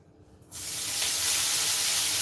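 Food hits a hot pan and erupts into a loud, steady sizzle that swells and holds, hissing close by with no voices.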